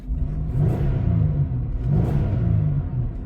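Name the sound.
car engine running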